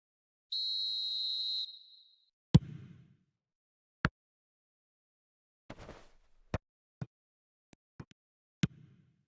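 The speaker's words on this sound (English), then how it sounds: "Whistle's gone, that's a foul." A referee whistle blows one sustained shrill blast in a football video game, followed by sparse sharp clicks and thumps against near silence.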